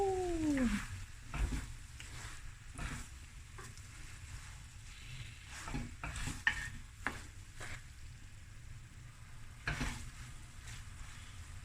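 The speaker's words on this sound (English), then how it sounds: "Another stir." Lamb knuckle and rice being stirred in a pot, a steady close sizzle with several scraping stirs and clanks of the spoon against the pot, no talking.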